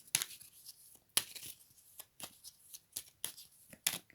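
Oracle cards are shuffled and drawn, giving quiet, close papery riffles and snaps at an irregular pace, roughly one burst every half second, with no speech over them.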